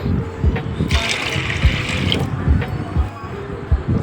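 Two glasses of water pour steadily into a pressure cooker, a continuous splashing rush with a brighter gush partway through, close by.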